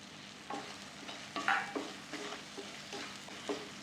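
Masala paste being sautéed in a pan with black masala and turmeric, giving soft scraping stirs and a faint sizzle, with a few sharper spoon knocks at close range.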